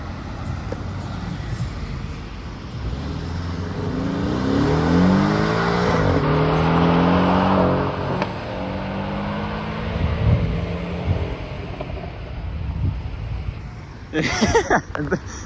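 A Porsche 718 accelerates hard on a street in Deauville, its engine revving up in rising sweeps and then fading as it pulls away, with voices of people nearby.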